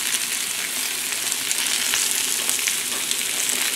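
Onions sizzle steadily on a hot Blackstone flat-top griddle, a constant close crackling hiss with no talking.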